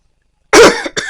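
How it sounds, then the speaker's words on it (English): A person coughs up close, loud and alone: one harsh, forceful cough followed by a shorter second cough. "while I'm coughing my head off here"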